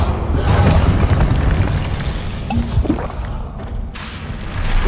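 Confringo blasting spells cast in the Hogwarts Legacy game, loud booming explosions with rumbling low end that roll on continuously, one burst merging into the next, with no voices.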